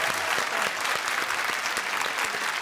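A studio audience at a televised show claps steadily and loudly, a dense even wash of applause throughout with no break.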